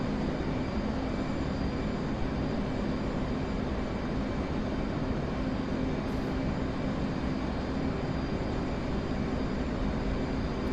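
Steady, loud, unbroken jet engine roar from an aircraft descending in the DCS flight simulator game, a dense continuous rumble holding the same level throughout with no talk over it.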